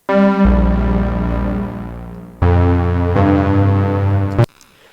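A steady, full analog-style synthesizer pad made in Serum holds sustained chords, changing once partway through, then cuts off abruptly near the end.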